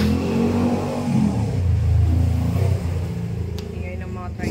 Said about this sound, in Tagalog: Ingay ng mga tricycle.